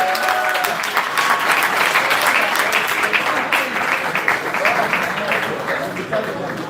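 Sustained audience applause at a live concert in Brooklyn, dense clapping steady and loud throughout, with cheering voices mixed in.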